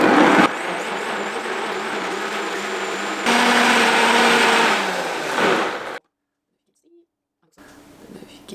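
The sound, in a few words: blender running with tamper attachment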